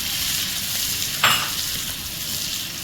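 Pumpkin sizzles steadily in hot oil as a coriander spice masala is tipped into the pan, giving a brief scraping splash over the continuous close frying hiss.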